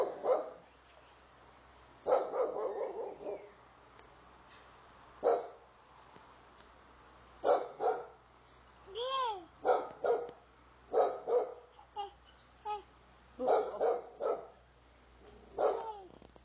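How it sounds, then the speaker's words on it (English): A dog barks repeatedly in short bursts of one to three barks, fairly close and loud, spaced across the whole stretch with quiet gaps between. "Doggy. It's a doggy, look."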